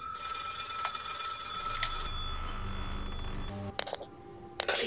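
Telephone in Maid of Sker rings with a loud, metallic bell trill for about four seconds, then cuts off abruptly, leaving faint room tone and a final short ring.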